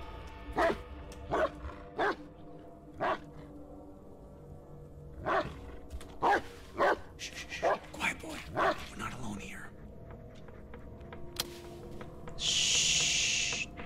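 A dog barks repeatedly inside the Blair Witch horror video game, sharp spaced barks in a series close by, with a voice briefly speaking and a burst of game noise at the end.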